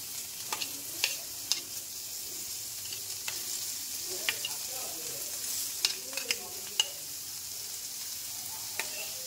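Chopped onions and onion paste frying in oil for a bhetki fish curry, a steady soft sizzle with occasional light clicks from stirring, quiet and without talk.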